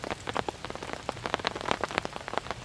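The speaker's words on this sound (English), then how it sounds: "It is a wet, rainy morning, folks. Very foggy. It's raining pretty good." Heavy rain drums on a camping tarp with dense, irregular patters of drops close overhead on a foggy, windy morning.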